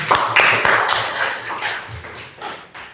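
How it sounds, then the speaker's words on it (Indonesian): A classroom of students claps together, a short patter of hand claps that rises and thins out over a few seconds, fairly close with some faint voices in the room. "Tepuk tangan dulu."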